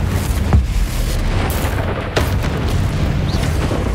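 Blasting-spell explosions in the Hogwarts Legacy video game, a dense run of booms and bursts, loud and close, with a sharper bang near the start and another midway.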